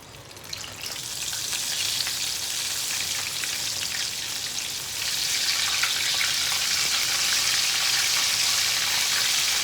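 Frog legs frying in a pan of hot oil on a stove, a steady loud crackling sizzle that stays dense throughout and swells a little louder partway through, with no talking.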